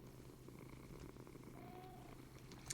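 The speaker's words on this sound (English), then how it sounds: "But you can hear them purr." Minecraft cat purring in a video game, a soft, steady rumbling purr held throughout at low volume, with a faint tonal game sound drifting briefly above it.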